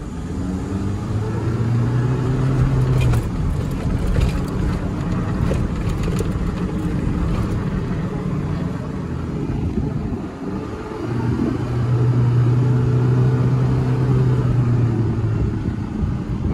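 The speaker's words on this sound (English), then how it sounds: "I'm just gonna leave it in the sports drive mode and see if we can get up here with one hand" Four-wheel-drive car in sports drive mode climbing a hill, its engine a steady loud rumble throughout with two stretches of heavier low drone as it pulls under load, no talk.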